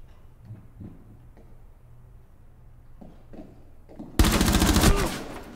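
Rainbow Six Siege gunfire ends in a headshot: after a quiet stretch with faint ticks and small knocks, a loud, rapid burst of shots rattles out for under a second, then fades into a lingering tail.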